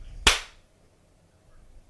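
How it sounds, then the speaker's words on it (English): A single sharp hand clap right into a microphone, loud and close, with a short decaying tail fading into quiet room hiss. "When I say the word 3, I'm going to clap to my microphone"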